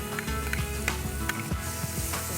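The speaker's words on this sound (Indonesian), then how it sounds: "Jangan lupa ditumis ya bawang bombaynya." Onion sautéing in margarine in a pan gives off a steady sizzle and frying crackle, close and continuous, with a few small stirring knocks.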